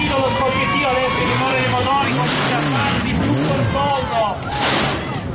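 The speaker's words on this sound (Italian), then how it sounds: "Avete sentito lo scoppiettio adesso, il rumore dei motori, comincia a farsi più corposo." Rally cars, including a Ford Puma Super 1600 and a Renault Clio, on a rally stage in Tricase, their engines popping and roaring as they rev and pass. The engine sound rises and falls continuously under a commentator's voice over a loud public address.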